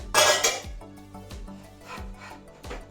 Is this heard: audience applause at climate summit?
no